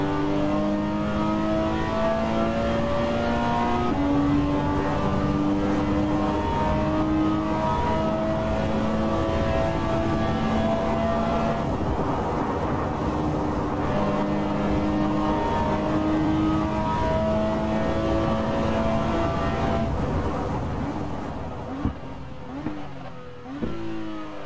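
A Porsche 911 GT coupé engine in the Assetto Corsa racing game holds a loud, steady roar with rising and falling revs and gear-change dips, close and continuous, then eases off near the end.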